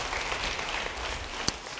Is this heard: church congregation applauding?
yes